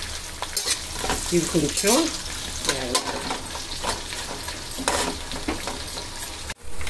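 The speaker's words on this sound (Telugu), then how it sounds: "ఉల్లిపాయలు ఇలా బ్రౌన్గా వేగాలి." Onions and green chillies fry in a pan, a continuous sizzle broken by repeated scraping stirs close by, with a brief spoken phrase in the background.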